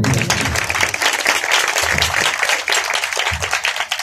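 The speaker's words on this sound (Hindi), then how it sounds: "जॉन भाई के लिए तालियां बजाओ।" A church prayer-meeting congregation claps for brother John after his worship song, a dense burst of applause from many hands nearby with a few voices mixed in underneath.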